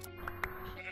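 Sheep in Minecraft give short bleats, two brief calls close together in under a second, over a low steady game background.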